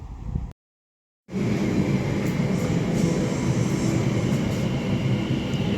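An electric passenger train arrives, rumbling steadily and loudly nearby after a brief moment of silence, a continuous low mechanical roar with faint higher whines above it.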